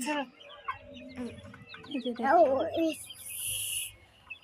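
Chickens cluck and call close by as they eat scattered feed, with busy overlapping fowl vocalisations and a brief sharp squawk near the end.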